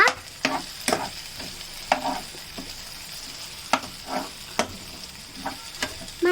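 Ginger paste fries in a pan and gets stirred, a soft, quiet sizzle broken by sharp clicks and scrapes of the spoon every second or so; no talk.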